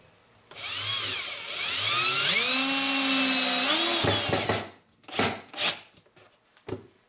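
A power drill drives a screw into plywood, a close, loud rising whine that holds for about four seconds, followed by a few short bursts of drilling.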